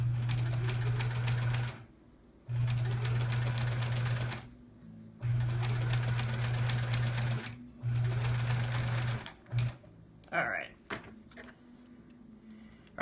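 Domestic sewing machine piecing a quilt block runs in four steady stitching bursts separated by short pauses, then a few brief starts, with soft handling clicks and fabric rustle near the end; no talk.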